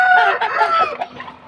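A glossy jet-black Aseel rooster with a white beak and white legs clucks nervously up close, a loud run of throaty clucks and short calls.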